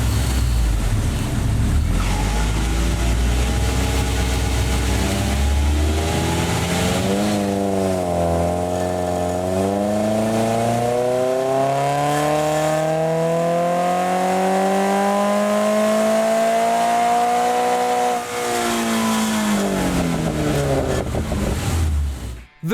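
A Subaru BRZ / Toyota GR86 FA24 engine with aftermarket exhaust and headers revs loudly on a dyno, its tone climbing steadily through a long pull, easing off, then rising again before a sudden cut at the end.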